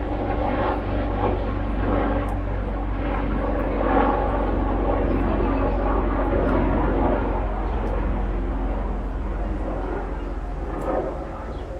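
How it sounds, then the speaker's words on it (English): Airplane flying overhead outdoors during a summer yoga class, a continuous loud low engine drone that stays steady throughout, with a faint voice now and then underneath. "there's a plane flying overhead"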